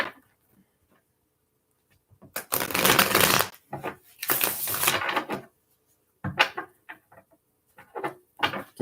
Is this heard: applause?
no